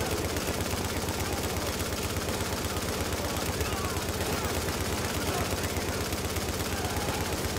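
Continuous automatic gunfire in The Division survival mode, a dense rattling stream of rapid shots at steady loudness, unbroken from start to finish.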